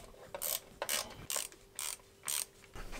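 A ratchet loosens transmission bolts on a BMW E36 track car, giving about six quick clicking ratchet bursts in a steady back-and-forth rhythm, close and clear.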